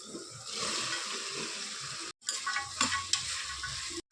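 Chopped tomato and vegetables go into a hot frying pan with a loud, steady sizzle that cuts out briefly, then returns with bursts of stirring and scraping.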